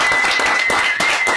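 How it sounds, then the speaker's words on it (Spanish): A studio audience on an Argentine talk show claps loudly in a brief, dense burst of close applause, with a thin steady tone running underneath. "Fuerte el aplauso, por favor."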